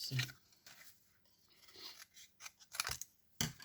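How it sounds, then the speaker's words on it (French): Large scissors snip around a paper cutout for an ink colour chart, giving several crisp, close cutting crunches in irregular bursts, with soft handling rustle between the cuts. "je vais prendre mes grands ciseaux d'abord pour détourer"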